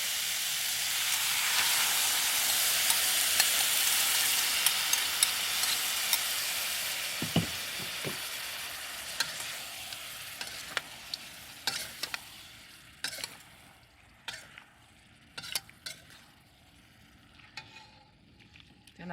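Shrimp and rice noodles with XO sauce stir-frying in a pan, a strong close sizzle and hiss that gradually fades, followed by sharp clicks and scrapes of stirring.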